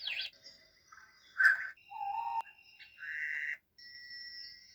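Gentle electronic birdsong of chirps, trills and whistled calls in short phrases with brief pauses, clear and close with no other sounds.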